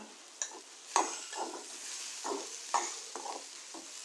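A spoon stirs and mixes papadum curry with curry leaves in a pan, making a series of irregular scraping strokes over a quiet sizzle, close and fairly soft.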